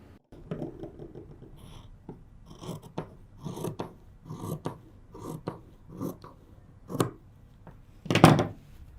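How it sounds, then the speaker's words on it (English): Scissors snip off excess fabric while sewing a dress with a decorative seam, a series of separate crisp cuts and rasps that builds to one loud, sharp snip near the end, with no talking. "so I can cut the extra pieces now"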